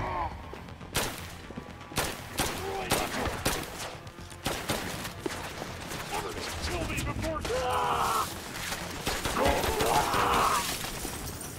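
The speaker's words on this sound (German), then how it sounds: "diese Fässer, wenn wir den Trigger ganz durchdrücken, dann zum Explodieren bringen" Several sharp, booming blasts of barrels exploding in the PSVR2 video game Synapse, one after another, with busy game noise filling the gaps.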